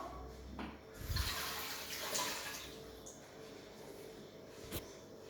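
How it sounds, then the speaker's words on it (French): Hands are washed under a running kitchen tap, a soft close splash of water with a few brief surges and faint clatters, fairly quiet throughout. "Je vais me laver les mains."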